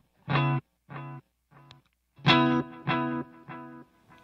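Electric guitar played through stacked short and long delay pedals in ping-pong mode: a plucked note or chord sounds, then repeats several times as echoes that fade and return with a bouncing rhythm, with no other sounds.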